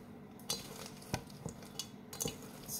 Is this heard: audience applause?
no